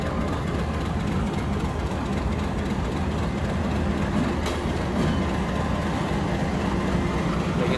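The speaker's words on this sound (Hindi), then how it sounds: "AG-30 जिक्री एक्सप्रेस के लिए पहले से उधर शंट हो रहा" Train shunting at Multan Cantt railway station: a steady, loud low rumble of engine and rolling wagons fills the whole stretch without pause, with no voices.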